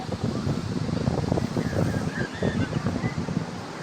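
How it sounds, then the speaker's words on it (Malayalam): Wind blows at Payyambalam beach where kites are being flown, making a steady rushing buffet against the microphone with a faint surf-like roar underneath. "കാറ്റ് അടിക്കുന്നുണ്ട്"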